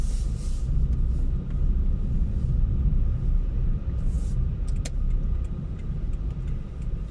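A car drives slowly around a petrol station with a steady low engine and road rumble from inside the vehicle, broken by a few faint clicks and ticks.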